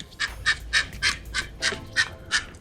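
Bird calling at a Boynton Beach fish cleaning dock while croakers are being cleaned, a run of about eight sharp, evenly spaced squawks, close and fairly loud over faint background rumble.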